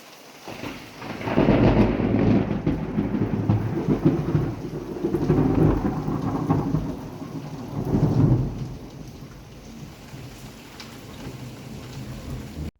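A nighttime thunderstorm with heavy rain pouring steadily and long rolling thunder rumbles swelling and fading, close and loud with no talk.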